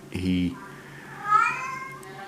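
A pet cat meowing for attention indoors: one short meow near the start followed by a longer, rising-and-falling whining meow, close and fairly clear.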